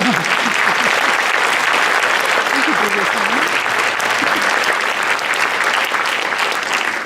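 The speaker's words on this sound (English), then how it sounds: "so let's give them another round of applause." Sustained applause from a large audience at a high school honor society ceremony fills the room, with a few voices calling out briefly over the clapping early on.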